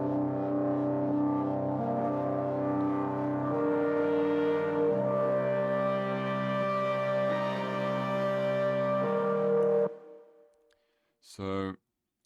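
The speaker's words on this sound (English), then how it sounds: "First element we're kind of introduced to in the tune is this pad, and this was made in Native Instruments Contour." Atmospheric synth pad made in Native Instruments Contour, soft sustained chords shifting slowly over about ten seconds before fading out, followed by a brief burst of another sound.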